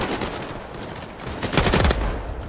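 Rapid bursts of gunfire from a jumpy rifle in the World War II shooter Battalion 1944, loud and close, building into a dense volley in the second half with little talk.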